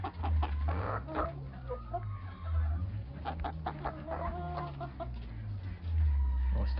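Chickens clucking steadily at close range in a backyard flock, with low, continuous murmuring clucks and occasional sharper calls.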